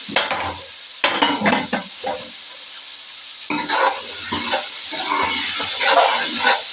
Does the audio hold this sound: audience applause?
no